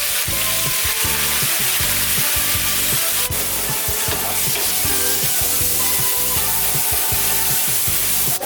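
Chopped spinach and potato hitting hot oil spiced with cumin seeds for a Bengali-style palak aloo, giving a loud, steady close-up sizzle and crackle throughout with occasional stirring scrapes.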